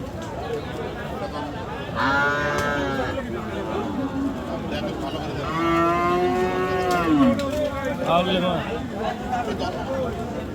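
Cattle moo loudly and repeatedly, long drawn-out lowing calls from bulls at a busy rural cattle market in Lalmonirhat during rain, over a steady crowd murmur with people talking nearby.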